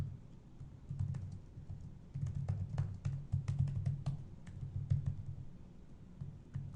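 Quick, irregular bursts of typing on a computer keyboard, soft close key clicks coming in short runs separated by brief pauses, quiet and alone.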